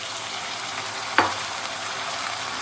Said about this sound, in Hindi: गोश्त ऐड करके मैं इसको 5 से 6 मिनट अच्छी तरीके से भूनूंगी